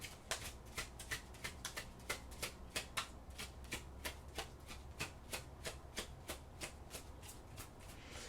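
Oracle cards being shuffled close up, a steady run of quick papery riffles and flicks with soft rhythmic slaps, continuous and fairly quiet with no talk.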